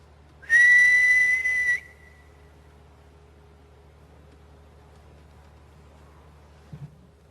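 A single sharp, high-pitched whistle blown loudly for about a second inside an antiques centre, then quiet background hum with a faint knock near the end.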